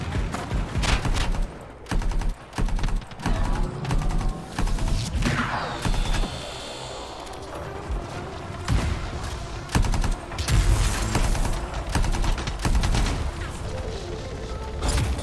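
Dense gunfire in the Anthem video game: rapid bursts of automatic weapon fire and blasts, loud and near, chattering almost continuously with brief gaps throughout.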